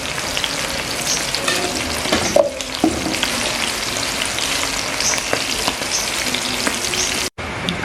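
Salted sepat fish frying in hot oil, a steady dense sizzle with crackling spatter running throughout, close and loud, with a brief clatter of stirring midway and a short cut near the end.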